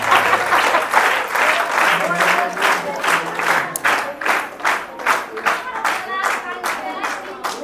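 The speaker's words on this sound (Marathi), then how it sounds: "टाळ्या कमी नका करूया" Audience applause at a Buddhist scripture-reading closing ceremony in Harsh Nagar: dense, sustained clapping from a crowd that thins into more distinct, separated claps toward the end, with a voice faintly audible early on.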